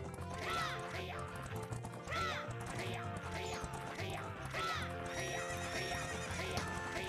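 Galloping horses whinny and neigh repeatedly in The Legend of Zelda: Majora's Mask 3D, loud recurring whinnies over rhythmic hoofbeats and game music, with crashing hits in between.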